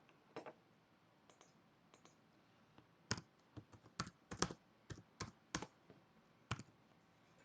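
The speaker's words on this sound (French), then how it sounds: "je vais être obligé donc d'écrire mon code HTML" Keys tapped on a computer keyboard while HTML code is typed in, heard as scattered quiet clicks in short bursts with gaps between, fairly close and alone with no talk.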